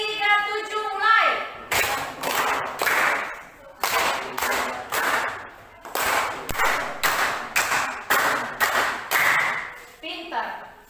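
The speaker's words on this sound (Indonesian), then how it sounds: "Kalau ibu bilang nanti tepuk 337, maka mulai menepuk 337." Children clap the 3-3-7 pattern together, a crowd of loud hand claps in groups of three, three and seven, repeated in close quick rhythm, with children's voices before and after.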